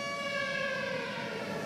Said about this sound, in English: Yes, I can hear the siren.